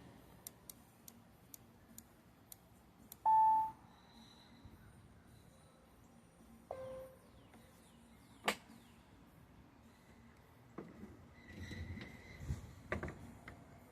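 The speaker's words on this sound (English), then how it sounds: "And it beeps when it gets to normal." A Maytag Bravo XL washing machine gives a short, clear electronic beep among soft clicks and ticks from its controls, in an otherwise quiet room.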